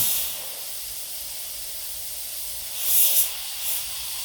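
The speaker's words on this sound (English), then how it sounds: "Normally when I'm airbrushing or spraying paint" A soft, steady airbrush hiss of spraying paint continues throughout, swelling briefly louder a couple of times near the end.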